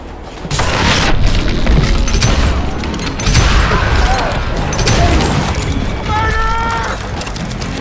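Dynamite explodes with deep booms and crashing debris in the Western shooter Call of Juarez: Gunslinger, loud and sustained over several seconds, with rumbling aftermath and faint mechanical clatter.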